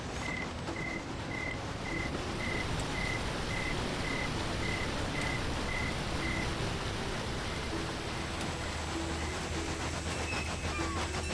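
A train rolls along steadily in a video game, a constant rumbling wash of noise with faint repeating tones and light rhythmic clatter, no voices.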